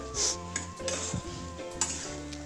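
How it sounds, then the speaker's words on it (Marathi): A spoon scrapes and clinks against a pan while chapati-cone filling is stirred, a few light metallic taps under quiet background music. "आणि आता याला चांगलं मिक्स करून घेऊ"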